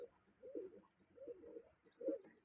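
Soft, low pigeon coos repeat three times in a slow rhythm, close by and quiet, with a faint chirp in the background.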